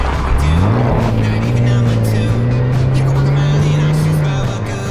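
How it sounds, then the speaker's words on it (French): A sports car with a small 3-litre engine drives past, its engine note rising and holding steady as it approaches and sweeps by nearby, loud and continuous throughout. "le petit 3 litres là, ça fait un beau petit bruit"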